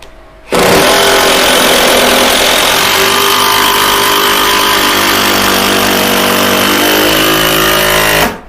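A power drill drives long screws into plywood flooring during repair work at an old watermill, a loud, steady whirring drone that holds for about eight seconds before cutting off.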